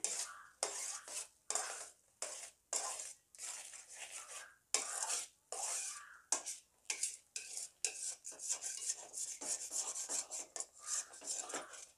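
A spoon scraping and stirring thick, reducing milk in a metal pan while making homemade milk powder, rhythmic rasping strokes repeated steadily with brief pauses between them.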